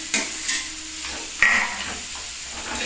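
Boiled potato being stirred into reddish-browned fried onions in a pan, a steady soft sizzle with a few scraping stirs standing out, close and alone with no talk.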